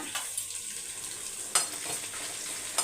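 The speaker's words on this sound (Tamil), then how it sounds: "இந்த வரமிளகாவை நல்லா நம்ம வறுத்துக்கணும்." Dried red chillies fry with onions in a pan under a steady soft crackle, with a few sharper clinks or scrapes from stirring cutting through.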